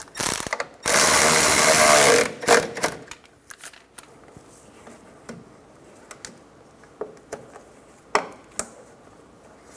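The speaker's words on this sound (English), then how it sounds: "Tighten down this 10mm." Ratchet tightening a 10mm bolt under the wheel arch of a 2014-2019 Toyota Highlander while fitting wheel arch molding: a loud, continuous burst of rapid ratcheting clicks, then a few scattered clicks and soft taps, close by with no talk.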